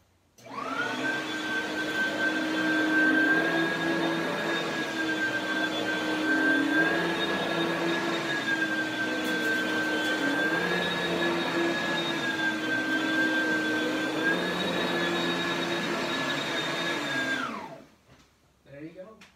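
An Oreck upright vacuum cleaner hums loudly and steadily at close range for several seconds, its motor pitch wavering slightly, then shuts off and winds down.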